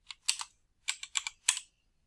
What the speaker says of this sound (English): As soon as you type in a category name